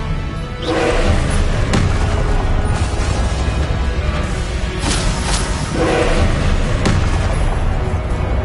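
Confringo blasting-curse explosions go off in a Harry Potter video game. Several loud, broad booming bursts hit at irregular intervals over a continuous rumbling din.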